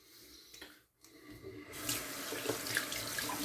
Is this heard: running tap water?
yes